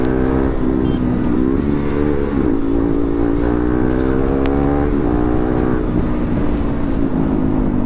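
A KTM Duke 390 motorcycle fitted with an aftermarket exhaust revs close by, its loud, raspy engine note rising and falling in repeated throttle blips.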